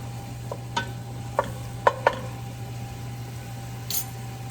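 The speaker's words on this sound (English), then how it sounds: "I'm just kind of stirring that all up, letting that kind of cook down a little bit." Sparse, soft clinks and scrapes of a spoon stirring a pasta e fagioli base as it cooks down in a pot, four or five light taps over a steady low hum, with no talk.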